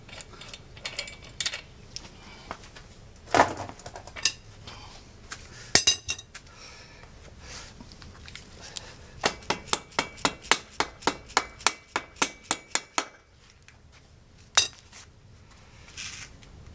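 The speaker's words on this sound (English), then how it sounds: "Now we have to remove the rear wheel." Motorcycle rear wheel coming off during a shorty fender install, with a run of rhythmic metallic ratcheting clicks and scattered clinks and clanks of metal parts, close and without talk.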